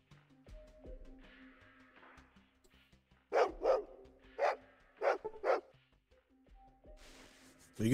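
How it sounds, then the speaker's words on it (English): Five barks from a dog in the Fallout 2 video game, loud and close, arriving in a quick uneven burst over a quiet ambient game background, with no talking. "Woof woof, the dog says."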